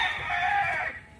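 A single gamecock crows once at a cockpit, a short, bright call close by that trails off quickly.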